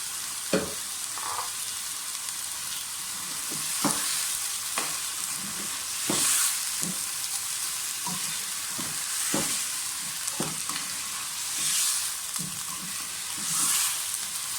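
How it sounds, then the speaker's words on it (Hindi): Chicken fries in a pan for aloo chicken shorba, a constant close sizzle broken by repeated spoon scrapes and knocks every second or so as the pieces are turned. "चिकन को थोड़ा सा फ्राई करें कि चिकन का कलर थोड़ा सा चेंज हो जाए।"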